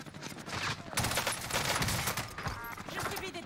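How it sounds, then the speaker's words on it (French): Rapid bursts of video game gunfire crackle loud and close, dense and continuous with brief pauses, while players talk over the shooting. "Je subis des tirs."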